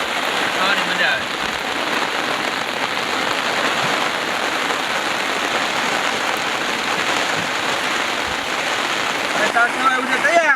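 Steady, dense rain pours down outdoors during the monsoon season, a loud continuous hiss of drops on surfaces lasting throughout, with no break or change in intensity.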